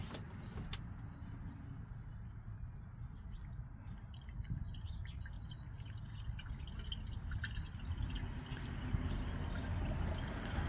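Synthetic engine oil poured into the engine of a 2011-2019 Hyundai Elantra, a steady liquid trickle and glug running continuously at close range with no talk.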